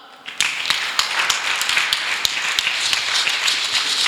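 A church congregation claps together in a steady, even rhythm, each sharp clap close and distinct, with no voices rising over it.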